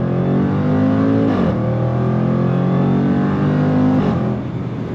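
A 2026 Jaguar F-Pace SVR 575 Edition under throttle, its engine rising through the revs with two quick shifts, loud and close, with no speech over it.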